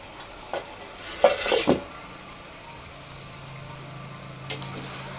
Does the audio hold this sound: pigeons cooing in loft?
no